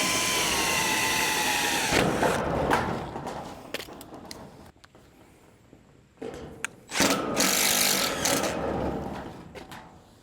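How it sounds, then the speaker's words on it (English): Bursts of a power drill driving screws while enclosing a carport, whirring and buzzing at close range, stopping and starting several times with short quieter gaps between runs. "I'll go right down the middle first to drill and screw these in"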